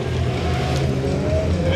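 Race car engine roaring steadily on a motocross-style track during an M-2000 class B final race at Vilkyčiai, loud and continuous with a sustained low drone throughout.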